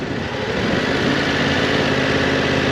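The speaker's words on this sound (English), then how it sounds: "Once I have enough speed, I'm going to shift up, open that clutch, shift up. Then I'm going to downshift." Motorcycle engine running steadily, with the rider working the clutch to shift up through the gears and then downshift toward a stop; a continuous, fairly loud mid-to-high engine drone with slight shifts in pitch and no talking.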